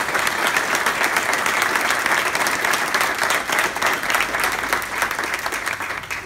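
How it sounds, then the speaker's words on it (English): An audience applauds at a mayoral swearing-in ceremony with dense, sustained clapping from many hands that stays loud and steady throughout, with no voices over it. "So why don't you give them a round of applause"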